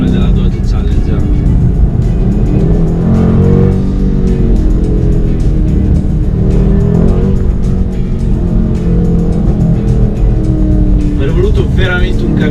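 A 2017 Dodge Challenger muscle car engine droning steadily while driving on the road, a loud, close, constant rumble with someone talking over it throughout.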